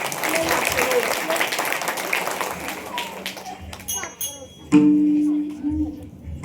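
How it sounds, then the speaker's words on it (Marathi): An audience claps loudly at a devotional kirtan gathering for several seconds, then the applause fades and a voice begins over quieter room sound. "सर्वांसाठी एकदा जोरदार टाळ्या."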